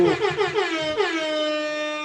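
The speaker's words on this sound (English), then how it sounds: "we need some air horns" A brassy, blaring horn blast sounds in repeated quick pulses, then holds one long sustained note that slowly fades.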